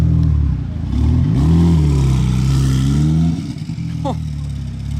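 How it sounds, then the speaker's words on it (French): A Mansory-modified Porsche arrives with a loud engine rev that swells and then eases off, heard close up at a busy Monaco yacht show with people talking excitedly over it. "je crois qu'on a une autre voiture Mansory qui débarque"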